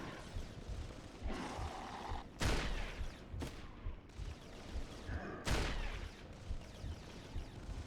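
Gunfire in the PlayStation 3 shooter Resistance: Fall of Man, with several loud bursts of shots and booming blasts spaced through the clip over continuous battle noise.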